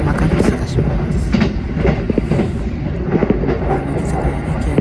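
JR Keiyo Line commuter rapid train running past Kaihin-Makuhari, heard from on board: continuous loud rolling rumble with rhythmic clickety-clack of wheels over rail joints, while someone talks over it.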